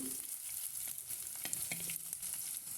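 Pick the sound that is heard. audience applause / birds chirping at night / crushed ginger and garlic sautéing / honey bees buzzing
crushed ginger and garlic sautéing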